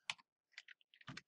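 Short bursts of key clicks on a computer keyboard as a search term is typed, three or four quick clusters separated by brief pauses, close and fairly quiet.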